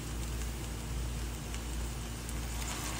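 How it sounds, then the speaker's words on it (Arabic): Water pours into a pot of fried onions, pre-spiced fish pieces, parsley and rice, making a steady rushing, splashing hiss that stays even and fairly quiet for about three seconds. "الحين بضيف الموية."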